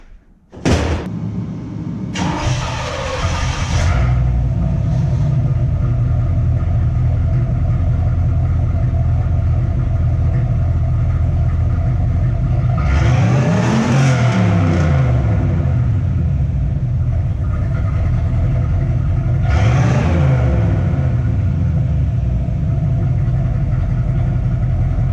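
A daily-driver car's engine and exhaust rumble loudly and steadily with low-end grunt, swelling in two distinct revs partway through after a door-like thud at the start.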